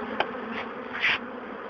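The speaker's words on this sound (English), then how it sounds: "I'm going to pick up these pieces of bird box with the bees, and I'm just going to shake them in front of the bird box" Honeybees buzz as pieces of comb carrying the colony are shaken out in front of a bird box, a close, fairly faint insect hum with a few brief louder swells.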